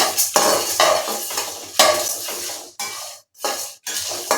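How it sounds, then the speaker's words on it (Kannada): Coriander seeds tossed into a pan with bay leaf and stirred for homemade biryani garam masala powder, giving a run of close, dry scraping and rattling strokes, several short bursts separated by brief pauses. "ಈಗ ಧನಿಯಾ ಹಾಕ್ತಾ ಇದ್ದೀನಿ ನಾನು"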